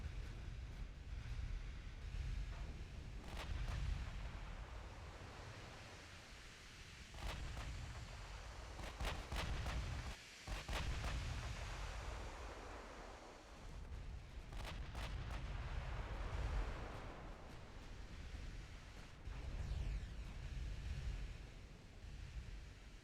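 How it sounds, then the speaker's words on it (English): Naval guns firing in the warship game Ultimate Admiral Dreadnoughts, deep booming shots scattered over a constant rushing roar of sea and wind, fairly loud throughout. "Now we have a 4-pounder or 4-inch guns are now shooting."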